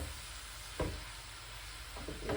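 Bitter gourd fries in an uncovered pan with a soft, steady sizzle, broken by a few brief louder stirring scrapes, quiet and close with no talking.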